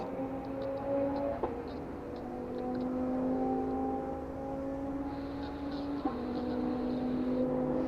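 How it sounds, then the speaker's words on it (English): Race cars circling Donington Park circuit heard from a distance, a continuous droning engine whine with shifting pitch, two brief changes as cars pass, over steady outdoor background noise. "so that's why you can hear the race cars going round"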